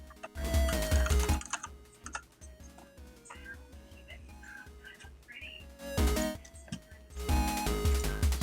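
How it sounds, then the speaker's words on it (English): Fast clattering on a computer keyboard comes in loud bursts with quieter stretches between, close to the microphone during an online tabletop role-playing session, with faint background sounds. "the typing was overwhelming"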